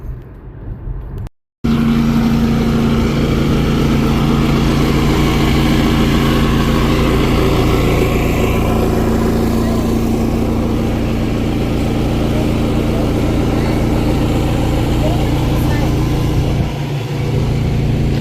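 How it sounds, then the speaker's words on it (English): A Predator generator from Harbor Freight runs with a steady, loud mechanical hum and drone. It starts after a short break and keeps going unchanged to the end. "That generator right there is actually pretty quiet."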